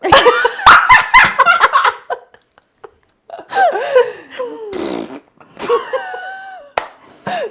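A fart sound rings out once, loud and close, and laughter breaks out around it. The giggling and talk keep going in short bursts after it.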